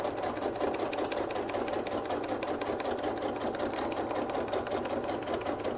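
Domestic sewing machine stitching quilting fabric, a steady close mechanical whirr with rapid even needle clatter running continuously and loudly without pause.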